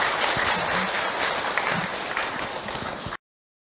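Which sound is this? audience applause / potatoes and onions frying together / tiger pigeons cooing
audience applause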